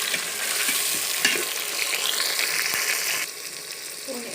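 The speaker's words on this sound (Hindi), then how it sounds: "प्याज माड़ा फ्राई हो गया, मैं इसमें टमाटर तो सब्ज़ मिर्चियाँ शामिल करता हूँ" Tomatoes and green chillies sizzle in hot oil with fried onions for matar pulao, a close, steady frying hiss with stirring scrapes that drops in loudness near the end as the mixture settles.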